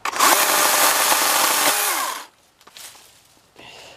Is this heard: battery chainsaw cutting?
yes